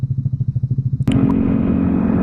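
A Yamaha Aerox motor scooter idles with a pulsing, throbbing beat, then its engine revs sharply and holds a loud, steady drone as it rides off.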